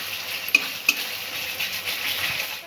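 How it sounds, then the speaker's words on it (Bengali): Spices and a spoonful of sugar frying in a pan for a Bengali vegetarian chhana curry: a steady hiss of frying with two brief metallic spoon taps early on, no speech. "সব কিছু আবারও একটু ভালো করে কষে নেব।"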